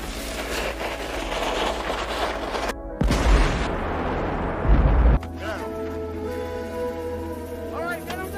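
A bomb blast in a film scene set during tree felling: a deep, loud boom with rumbling low end, followed by a sharp cut and a change of scene, with talk heard over parts of it.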